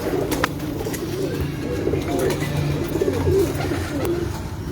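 Lal Pari teddy pigeons coo in low, throaty rolling calls, several birds close together in a continuous murmur with faint background noise.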